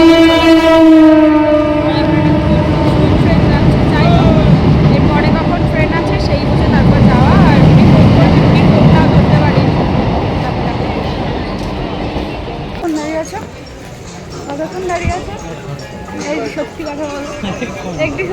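A train stands at Kanchrapara railway station. A loud horn blares at the start, then heavy rumbling carriage noise swells and fades, with voices nearby.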